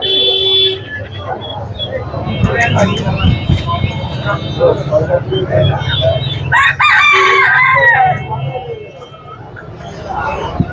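Chickens cluck and roosters crow amid the bustle of a bird, cat and chicken market in Mirpur 1, with several loud crows rising over constant crowd chatter and nearby bargaining voices.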